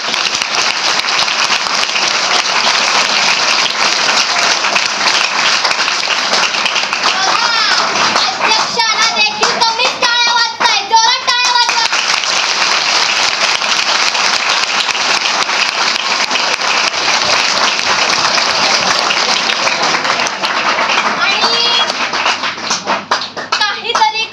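Loud, sustained applause from an audience at a Savitribai Phule Jayanti commemoration event, dense clapping lasting the whole stretch, with children's voices rising through it midway.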